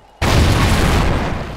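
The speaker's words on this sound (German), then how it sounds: "was explodiert denn hier alles?" A loud explosion bursts in abruptly after a short quiet moment and rolls on as a sustained, roaring blast with dense low rumble, set in the multiplayer shooter Call of Duty: Ghosts.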